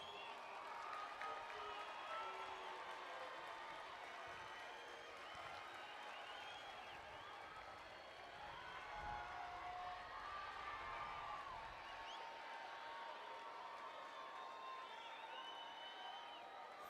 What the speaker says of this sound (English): So students, please stand, face your parents, and give them a round of applause for their support.